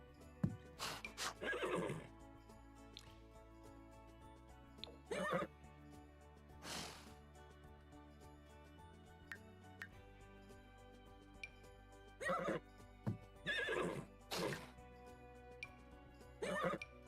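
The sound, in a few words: horse neighing in a farming video game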